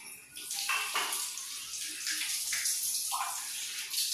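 Water is poured out and changed at home to keep mosquitoes from breeding, a steady close splashing and gushing rush that carries on unbroken.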